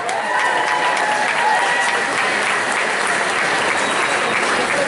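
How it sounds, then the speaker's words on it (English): Sustained audience applause fills a bodybuilding contest hall, a dense, even wash of clapping from a large crowd that holds steady at full volume throughout without pause. "Let's give them a big round of applause."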